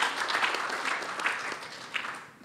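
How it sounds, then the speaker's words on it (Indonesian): Audience applause for the speakers at a public consultation forum, a dense, steady patter of many hands lasting a couple of seconds at moderate loudness with no voices over it. "Tentunya kita aplaus untuk para narasumber."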